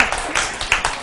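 Students in a nursing lecture give a brief round of clapping, a short, even patter of hands at moderate volume with a few sharper claps standing out.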